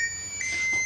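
A kitchen oven gives off a short, steady electronic beep, close by and fairly clear against faint room noise.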